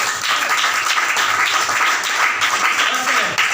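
A church congregation breaks into loud, sustained applause and clapping for a man, a dense steady wash of many hands filling the room with no pause.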